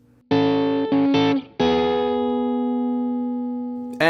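A single-coil East Sider electric guitar pushed through a KarenX fuzz pedal plays a few loud, saturated notes in quick succession, then holds one long sustained note that slowly fades, followed by a sharp new attack at the end.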